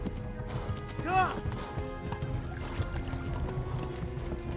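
A horse clip-clops at speed in the video game Kingdom Come: Deliverance, with quick hoofbeats, a brief whinny and game ambience beneath a voice.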